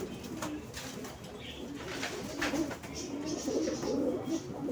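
Young racing pigeons in a loft coo repeatedly, soft throaty calls layered over one another against steady background noise and some faint talking.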